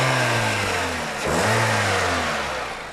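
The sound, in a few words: car with 1.8 liter engine accelerating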